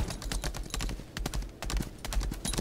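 A horse's hooves clip-clop steadily in the online game Lost Ark, a close, rhythmic run of sharp hoofbeats lasting the whole stretch with no voices over it.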